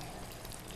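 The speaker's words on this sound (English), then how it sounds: "We'll get it in this pan to warm it up. A little bit of sizzle there." Ratatouille sizzles as it warms in a pan, a soft, continuous crackling hiss, faint and brief with no voices.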